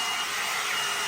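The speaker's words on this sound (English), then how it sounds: "This is called the Mark Hill Style Addict hot air brush" A Mark Hill Style Addict hot air brush runs with a steady, loud blowing whir, an unbroken airy motor hum for the whole brief moment.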